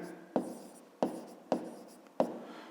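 Four sharp pen strokes tap and scratch on paper at roughly even intervals while numbers are written, each a quick close attack fading out, in a quiet room.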